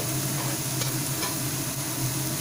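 Bottle gourd sizzles steadily in a pan while a spoon stirs it, a close, even frying hiss with a low hum under it and no talk.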